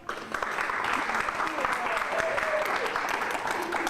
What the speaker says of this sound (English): Let's give a round of applause for our keynote